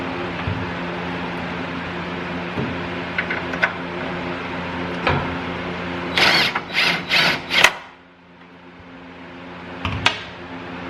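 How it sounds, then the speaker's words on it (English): A ratcheting wrench drives a bolt into an N-Fab side step on a Jeep Gladiator, with a burst of rapid clicking ratchet strokes in the middle, scattered taps and clunks, and a steady background hum. "I'm going to go grab the ratcheting wrench because it's much easier with one hand to screw that thing in that way."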